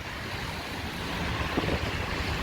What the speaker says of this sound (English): look how windy it is